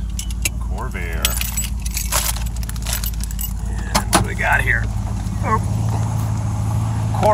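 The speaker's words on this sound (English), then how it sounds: "Key in hand." Car keys jangle in a hand after a Buick's ignition is switched off at a Corvair car show in Ypsilanti's Depot Town. Close, repeated metallic jingling carries on throughout, with voices nearby.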